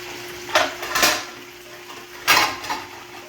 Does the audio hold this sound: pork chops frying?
yes